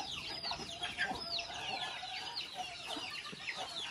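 Hen clucking repeatedly and agitatedly after a scuffle with a rooster in a rural farmyard, steady close clucks alongside other chicken calls, with no talk over it.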